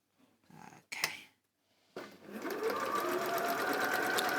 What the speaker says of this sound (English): we've got the sewing machine that Katharine's using there